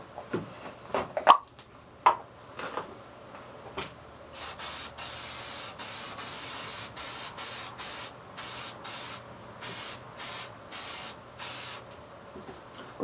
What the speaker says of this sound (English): We're going to use this Krylon clear spray look again.